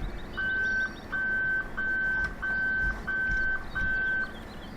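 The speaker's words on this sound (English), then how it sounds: "It's beeping madly at me." A warning alarm in the video game Farming Simulator 15: seven evenly spaced, steady electronic beeps, each about half a second long, repeating over a low engine hum.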